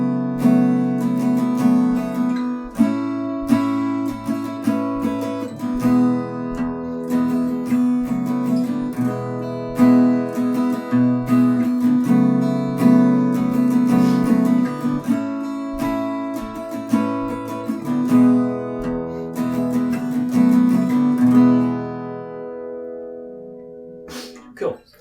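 An acoustic guitar plays the chords of a song, close and clear, strummed in a steady rhythm that rings out at the end.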